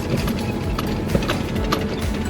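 Horse hooves clip-clop in an irregular pattern at moderate distance at a polo club estate in Jamaica, over a steady outdoor background hum.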